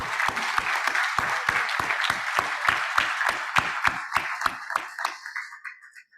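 Rhythmic, evenly timed applause greets a doctor at a cardiovascular course in Caracas, the audience clapping in unison for a few seconds before the sound thins and fades to a few scattered claps.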